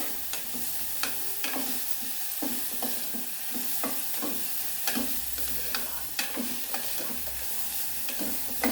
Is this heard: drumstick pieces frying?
yes